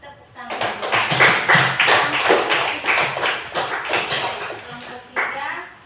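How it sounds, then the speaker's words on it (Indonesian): Classroom of students claps for a group presentation, a run of sharp, fairly close hand claps in uneven bursts that thin out and then pick up again near the end. "Silakan tepuk tangan."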